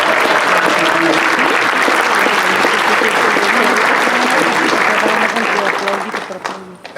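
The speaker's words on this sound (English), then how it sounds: "Let's give them a round of applause for their outstanding contribution." An audience at a Choose Chicago event gives its partners a loud, dense round of applause that holds steady for several seconds before thinning out near the end, with a voice faintly audible underneath.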